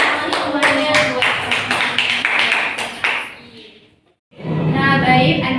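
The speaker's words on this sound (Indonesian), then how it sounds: "Silakan kembali tepuk tangan semuanya buat." A classroom of children claps hands together in a burst of rapid, overlapping claps that fades out, followed after a brief gap by chatter and noise from the room.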